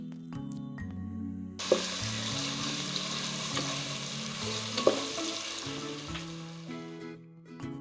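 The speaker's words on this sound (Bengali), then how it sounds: "তেলের মধ্যে পেঁয়াজ কুচিগুলোকেও আমি হালকা নরম করে ভেজে নিচ্ছি" Chopped onions fry softly in hot oil for a beef and radish curry, a steady sizzle running throughout with a few sharp clicks of stirring, over faint background music.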